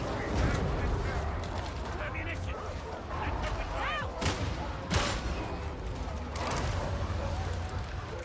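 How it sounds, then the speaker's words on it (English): Sniper rifles firing in a video game, dense bursts of gunfire with sharp cracks that ring out, while a voice talks over the shooting. "All the snipers sniping."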